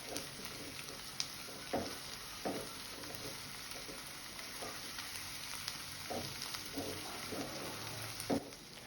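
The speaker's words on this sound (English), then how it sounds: "Now add 1 tablespoon of ginger garlic paste. Stir continuously." Ginger garlic paste frying and being stirred in a pan with curry leaves for a ridge gourd curry, giving a steady low sizzle broken by soft scraping stirs, close and fairly quiet with no talking.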